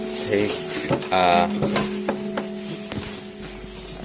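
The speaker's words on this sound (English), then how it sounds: "My plan is to sizzle it, toast it on the pan." Frying sizzle crackles as bread toasts in a pan, alongside scraping and clattering of utensils, with a tonal hum running underneath.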